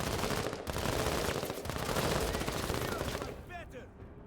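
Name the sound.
gunfire in a video game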